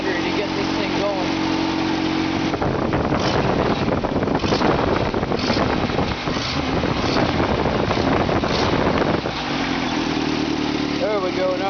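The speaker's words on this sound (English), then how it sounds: "now we're getting to low idle. And it runs nice and smooth even at low idle" A carbureted Toyota Hilux engine idles with a steady, rough mechanical hum, heard up close under heavy wind buffeting on the microphone.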